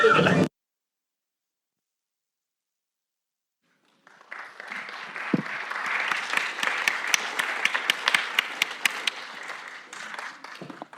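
After a brief burst of sound and several seconds of silence, an audience at a YouTube master class begins applauding, the clapping swelling into a full, steady ovation with a few louder individual claps standing out.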